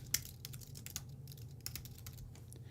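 Quick, uneven keystrokes clatter on a computer keyboard while a game character is being entered, the taps close and fairly light over a low steady hum, with no voices.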